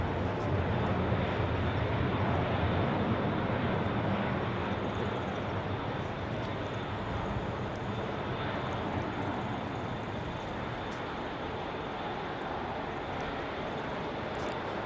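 Aircraft at London Heathrow Airport on a windy day, a loud, continuous jet engine roar that swells early and then stays strong and steady, buffeted by broadband wind noise.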